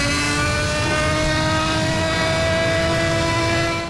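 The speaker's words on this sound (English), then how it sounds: "The Zonda Cinque is without a doubt the best sounding car in racing game history." The Pagani Zonda Cinque supercar's engine howls in the racing game Need for Speed Hot Pursuit, a loud, sustained high-pitched wail held steady for several seconds before cutting off abruptly.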